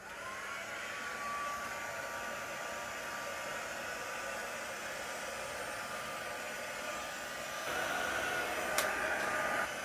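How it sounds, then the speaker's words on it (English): A heat tool blows steadily over alcohol ink, giving a quiet, continuous hair-dryer-like whoosh that shifts slightly in tone near the end. "So if I was to use my heat tool to do this,"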